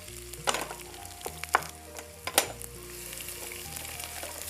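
Onions sautéing in a pan for potato masala, a soft, steady sizzle with several sharp scraping stirs of a ladle and faint background hum, no talking.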